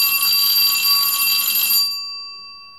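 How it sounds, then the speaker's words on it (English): A bell rings as a podcast intro, a bright metallic tone sustained and loud for nearly two seconds before its overtones fade away, heard alone. "let's ring the bell and meet our guest for this week's podcast"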